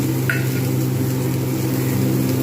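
Capsicum added to browned potato and cauliflower frying in a pan, giving a steady close sizzle over a constant low hum, with one brief scrape early on.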